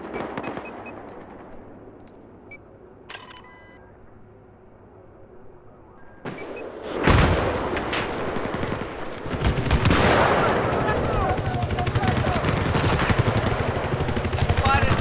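Gunfire in Battlefield 4 on the Zavod 311 map in a conquest match: a quiet start with a few isolated shots, then loud, sustained bursts of automatic fire and battle noise from about seven seconds on, with players talking over it.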